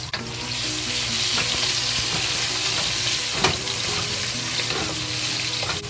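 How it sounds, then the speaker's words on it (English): Mushrooms with garlic frying in oil in a wok, a loud, steady close sizzle that never lets up, broken by occasional scraping stirs, with no talking. "Fry mushroom"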